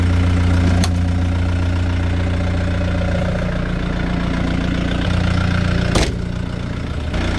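A Doosan D30S-5 3-ton forklift engine idles with a steady low diesel rumble and knock, close and loud, broken by two short sharp clanks.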